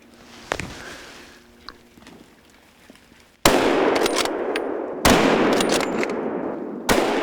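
Sauer 202 rifle shots ring out during a wild boar hunt. After a few faint early sounds, three loud sharp reports come about 1.5 seconds apart, each echoing outdoors.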